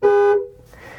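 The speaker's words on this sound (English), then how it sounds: "Do you remember how loud the horn is on the Maverick?" A Ford Maverick pickup truck gives one short, loud blast of its horn at close range, cutting off sharply after a fraction of a second.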